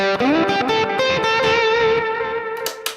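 An electric guitar played through a Quad Cortex Duchess lead preset with echo sounds out in sustained, distorted lead notes with a bend, trailing repeats and a couple of sharp picked attacks at the end.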